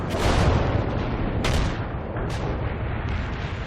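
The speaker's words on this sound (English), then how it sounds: "Launching a barrage." Artillery barrage in the real-time strategy game World in Conflict: dense, continuous booming and rumbling fire with overlapping blasts and sharp high crackles, loud and sustained throughout with no voices.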